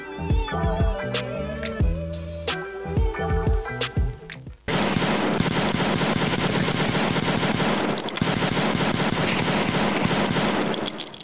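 Gunfire in the video game Escape from Tarkov: a few scattered, separate shots, then a loud, sustained burst of rapid automatic fire that runs unbroken to the end, with no talking.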